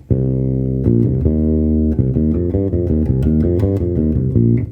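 A bass guitar plays a song's line, a clean, close run of plucked notes with a quick triplet figure, repeating rhythmically and heard alone without talk.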